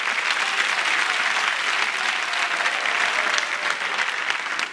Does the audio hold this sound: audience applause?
yes